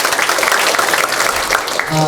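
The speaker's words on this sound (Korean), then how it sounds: "큰 박수 부탁드리겠습니다" Brief burst of applause from a church general assembly audience, loud and dense, filling the short moment without any voice over it.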